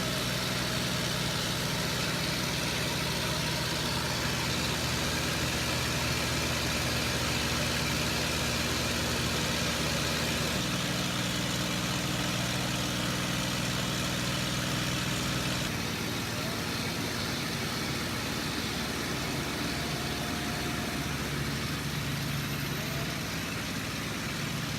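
A steady P-51D Mustang aircraft engine drone heard in flight during barrel rolls, loud and continuous with broad rumble, shifting slightly in pitch partway through and again near the end.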